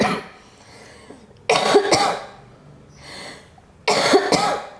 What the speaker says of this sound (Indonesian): batuk saya nggak sembuh-sembuh nih